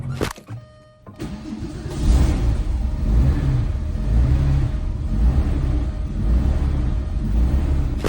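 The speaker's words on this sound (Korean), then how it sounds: "특히 냉간시에 처음 이 차 시동을 딱 걸었을 때 나오는 그 RPM의 그르렁거림이 초반 한 30초 정도 이어지거든요" Cold start of a 30-year-old all-wheel-drive Porsche 911, the engine catching after a brief whir and settling into a loud, steady rumbling idle that growls on for several seconds.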